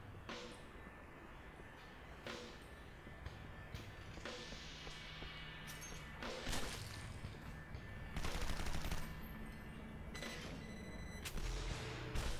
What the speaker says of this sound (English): What are you guys shooting at?